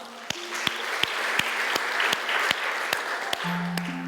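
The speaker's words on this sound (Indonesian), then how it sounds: "kita tepuk tangan dulu buat Tuhan Yesus" Church congregation applauding during a sermon, a steady wash of clapping with sharp regular thumps, likely a drum or beat, and sustained low keyboard tones underneath.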